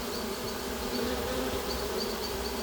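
Honey bees from a collected package swarm buzz steadily around a cardboard box, a dense continuous drone close by with no talking.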